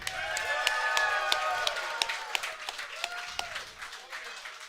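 A studio audience applauds and cheers at a live University of Hawaii football coach's talk show, a dense wash of clapping with scattered sharp claps and faint voices, fading slightly toward the end.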